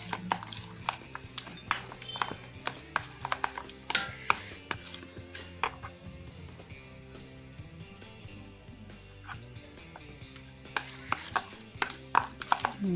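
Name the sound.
mixing ajwain-leaf bajji batter by hand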